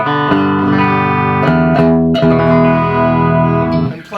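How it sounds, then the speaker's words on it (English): Distorted electric guitar chords from a Fender custom shop reissue Broadcaster through a Magnatone tube amp with spring reverb ring out loud and sustained, strummed a few times with a reverberant tail, played alone without voices. "Playing through a Fender reissue broadcaster. It is a custom shop version, and then it does have reverb"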